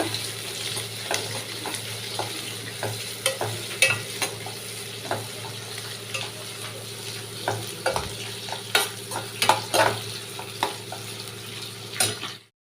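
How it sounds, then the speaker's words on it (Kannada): Chopped onions frying in hot oil in a pan, a steady close sizzle broken by frequent scraping stirs of a spatula, with no voices. "ಈರುಳ್ಳಿ ಹಾಕೊಳ್ತಾ ಇದ್ದೀನಿ ಈರುಳ್ಳಿ ಎಣ್ಣೆನ ಚಂದ ಫ್ರೈ ಆಗಬೇಕು"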